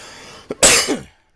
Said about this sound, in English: Dealing with a viral infection with a bad cough.